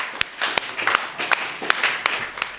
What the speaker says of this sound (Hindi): आप हाथ खोल लो और ताली वाली बजा के एक बार स्वागत करो